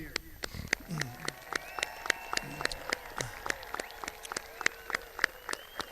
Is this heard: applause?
yes